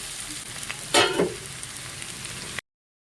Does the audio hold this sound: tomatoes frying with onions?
yes